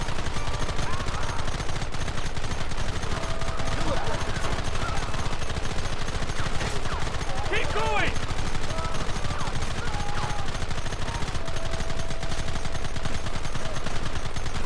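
Dense, continuous gunfire in the video game Red Dead Redemption, with rapid overlapping shots and volleys in a loud, unbroken barrage throughout.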